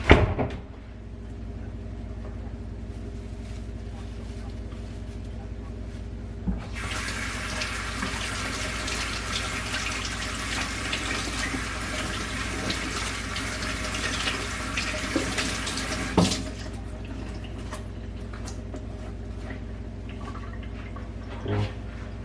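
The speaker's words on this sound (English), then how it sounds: "So just this much or so of cilantro. Let's give it a wash." Cilantro is rinsed under a running kitchen tap, the water hissing steadily for about ten seconds, with a quieter trickle and faint clatter before and after.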